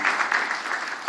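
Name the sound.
audience round of applause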